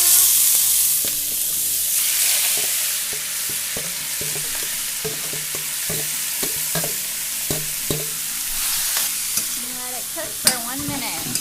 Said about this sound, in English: so we're going to put the shrimp in now.